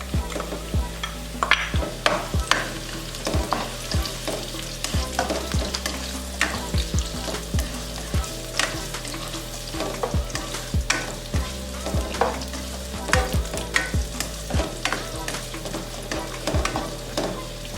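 Onion rings sizzle in a frying pan for Jamaican escovitch fish, a steady crackling fry punctuated by frequent sharp stirring clacks and scrapes of the utensil, close and fairly loud with no talking.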